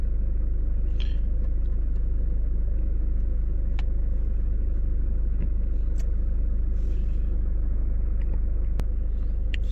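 A Nissan X-Trail engine with an oxygen sensor B1S1 range/performance fault runs at a steady idle, a continuous low rumble close by with a few faint clicks over it and no voices.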